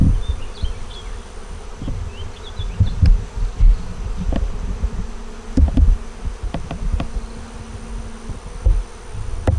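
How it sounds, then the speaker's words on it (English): Honey bees buzzing around an open hive, a dense continuous drone of many wings up close with individual bees zipping past the microphone. "Got some bees over here"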